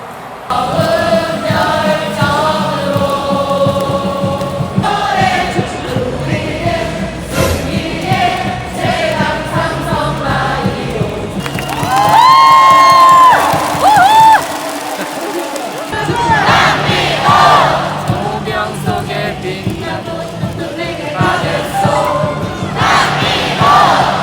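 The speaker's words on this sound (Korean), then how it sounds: "이 함성 소리가 너무 좋아요" A baseball stadium crowd roars and chants in the late innings, with whistles and shouts rising and falling around nearby talking voices.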